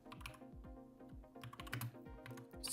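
Rapid, irregular keystrokes clatter on a computer keyboard at close range, a quick run of light taps with a few brief pauses between them.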